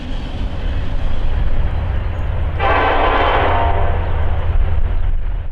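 A Norfolk Southern freight train on the Chicago Line rumbles past steadily and loudly throughout, with a horn-like band blaring from about the midpoint to near the end.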